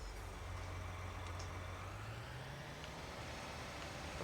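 A tractor engine in a farming video game hums at a steady low drone, its pitch rising slowly as it drives, faint and continuous with no voices.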